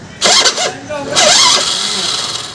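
Honda Activa scooter self-starter cranking with an abnormal noise, two short starter whirs followed by the engine catching and running at a close, loud idle.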